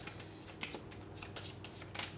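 A deck of Deepwood event cards from the Oathsworn board game is shuffled close by, a run of quick riffling, rustling bursts with small louder flicks, with no talk over it.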